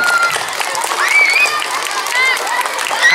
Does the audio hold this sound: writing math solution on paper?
no